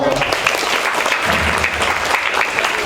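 Applause rings out from the audience at a primary school award ceremony for Khmer language students, a dense, steady clapping sustained at close range from start to finish.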